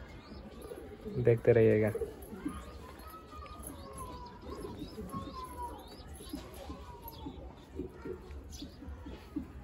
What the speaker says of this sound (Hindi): देखिए ये हमारा कबूतर पागल हो चुका है, सबके ऊपर चढ़ने की कोशिश कर रहा है